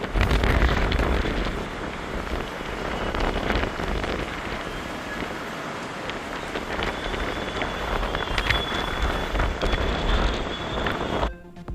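Strong dusty storm wind sweeping through Delhi: a continuous rushing roar with gusty swells and rattling debris, loud and close throughout, with no voices.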